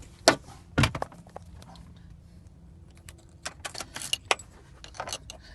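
A set of car keys for a 2002 Mercury Sable jangles and clinks close by in a series of irregular metallic rattles and taps, with quieter handling noise between the bursts.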